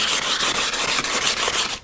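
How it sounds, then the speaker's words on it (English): Plastic transparency film being sanded on one side with steady, close back-and-forth rubbing strokes, loud and continuous with a quick, even rhythm and no voices. "we are going to sand one side of this plastic"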